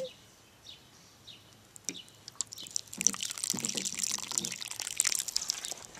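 Water poured from a watering can onto freshly planted bean seeds in a vegetable garden, a soft splashing and trickling that starts faintly and grows steadier and closer, with occasional drips.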